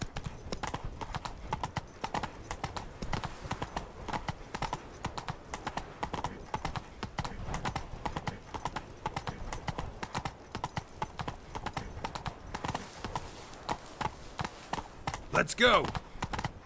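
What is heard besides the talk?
horse Roach galloping in video game Witcher 3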